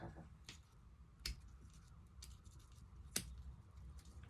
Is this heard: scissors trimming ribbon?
yes